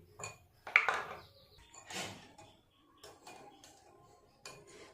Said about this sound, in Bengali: আর একটু দুধের সাথে ভালো করে মিশিয়ে নেবো সব কিছু